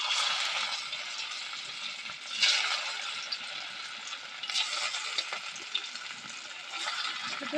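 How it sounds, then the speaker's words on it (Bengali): Pieces of banana flower dhoka fry in hot oil with a soft, steady hiss and occasional bubbling crackles, fairly quiet and close, with no one speaking. "এবার তেলের মধ্যে এবার এইগুলো একটা একটা করে ভেজে নেবো"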